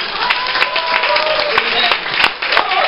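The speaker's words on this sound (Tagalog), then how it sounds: "Grabe ang palakpak niya sa Panginoon." Congregation at a charismatic El Shaddai prayer meeting in Kuwait clapping in a loud, dense burst, mixed with cheering voices and sharp individual claps close by.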